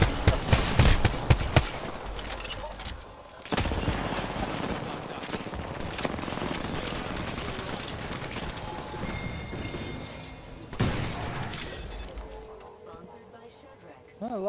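Rapid bursts of video game gunfire echo in bursts, with a heavy volley at the start and further clusters mid-clip, loud and close, under excited talking.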